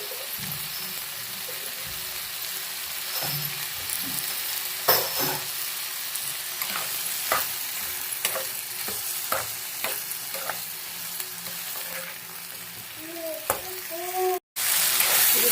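Chicken curry ingredients frying in a pan until soft, a steady sizzle with frequent stirring scrapes and utensil taps, close and continuous with a brief cut near the end.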